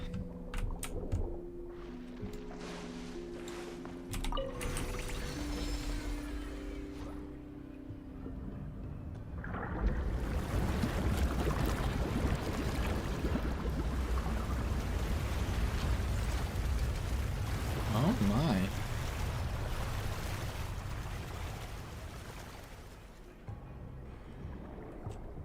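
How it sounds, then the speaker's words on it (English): Rising water in a flooded chamber in Genshin Impact, a broad sustained rushing and rumbling swell that fills the scene for most of the clip over soft game music, with a brief spoken exclamation near the start. "The water level is rising."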